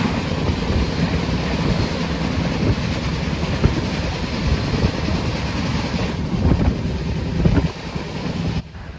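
A Pooja Express train on the Ajmer to Jammu Tawi route rolls steadily along the rails, heard from inside a general coach as a loud, continuous rumble with rattling and wind noise that stays constant throughout.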